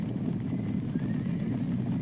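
Horses galloping with steady clip-clop hoofbeats and whinnying neighs, a continuous sound-effect bed of several animals running close and loud with no talk.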